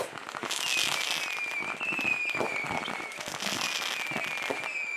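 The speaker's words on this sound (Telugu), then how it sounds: "ఆ టపాసులు, ఆ క్రాకర్స్ ఏవైతే ఉన్నాయో అవన్నీ కూడా పేలుస్తున్నారు" Firecrackers go off in dense crackling bursts at a Sankranthi rangoli contest, loud and near, with rapid pops and whistling streaks running throughout.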